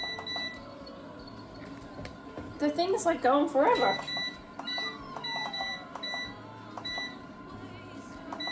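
Repeated electronic beeps from an ALDI Lumina food dehydrator as its timer is adjusted, a rapid cluster of short tones in the middle, with a person speaking throughout against light background noise.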